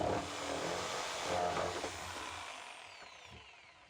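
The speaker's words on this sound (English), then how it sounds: "So we're going to take our jigsaw now, and we're going to cut out a pretty good sized chunk in the top of the barrel." A jigsaw cuts a large hole in the top of a plastic rain barrel, a loud buzzing whine with a close, rough cutting rasp that eases off toward the end.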